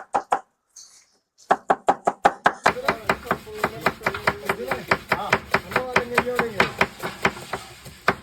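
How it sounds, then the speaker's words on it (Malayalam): Onions being chopped for biryani, a steady run of sharp knife strikes on a board, close and loud, with a short pause near the start before the rapid chopping resumes and continues throughout. "ഉള്ളി വെട്ടിക്കൊണ്ടിരിക്കുകയാണ്"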